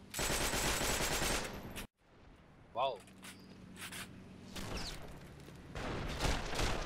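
A Browning machine gun fires in a video game as a loud, dense burst of automatic gunfire for about two seconds, followed by quieter game ambience with scattered shots and a short spoken exclamation.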